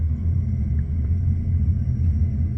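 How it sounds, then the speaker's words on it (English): A steady low hum and rumble of fuel pumps turning on in a parked 2JZ-swapped Scion FR-S drones without change, close and moderately loud. "And you hear the pumps come on."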